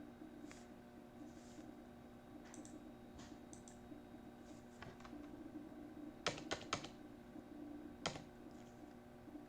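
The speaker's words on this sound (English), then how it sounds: "I will write John Doe @gmail.com." Sparse clicks of keys on a computer keyboard while entering an email address in Python code, with scattered single taps and a quick cluster of strokes near the end, close and fairly quiet over a steady hum.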